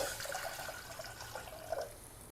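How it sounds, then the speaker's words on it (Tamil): Water runs and splashes steadily into a pot for a couple of seconds, close by, with no voices, adding about two cups of water for boiling chana dal. "கடலைப்பருப்பு வேக வைக்கிறதுக்கு ஒரு ரெண்டு கப் தண்ணி ஊற்றுறேன்"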